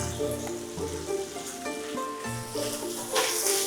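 Dried tofu seasoned with salt and MSG stirred in a hot pan, giving a steady moderate sizzle with soft scraping and clinks of the spatula throughout, no voices.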